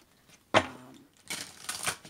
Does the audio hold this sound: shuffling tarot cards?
yes